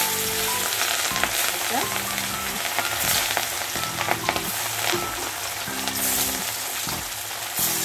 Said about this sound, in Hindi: अभी हम फिश डाल देते हैं इसमें एक एक करके।